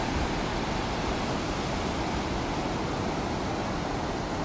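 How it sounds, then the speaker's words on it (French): Rough sea waves after a storm crash and wash in a steady, dense roar, loud and unbroken at close range with no voices. "Voilà la mer déchaînée ce matin avec des belles vagues."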